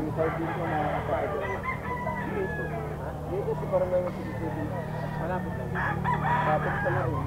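A ten-month-old gamecock stag at a pet market crows nearby, with other fowl clucking and calling around it while people talk over the noisy market background.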